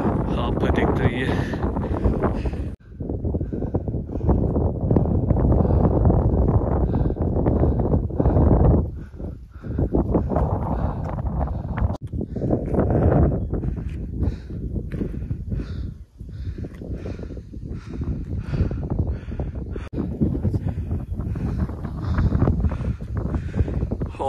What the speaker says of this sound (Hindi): देखिए काफ़ी तेज हवा चल रही है